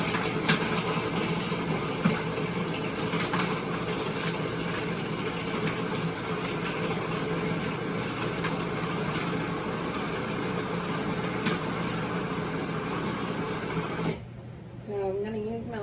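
A food processor blends hummus in a home kitchen, a loud, steady motor whir running continuously for most of the stretch before cutting out near the end, leaving quieter room sound.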